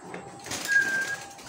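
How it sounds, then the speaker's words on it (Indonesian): Zebra doves, or perkutut, in a breeding cage on a bird farm give soft cooing calls amid faint rustling and a thin high tone, brief and fairly close with no voices. "dilihat di sini ada 6 ekor burung perkutut"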